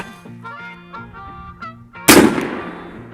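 A single sharp, loud shot from an Airforce Texan .510 CF carbine air rifle cracks out alone after a stretch of faint tonal background noise, then rings off briefly.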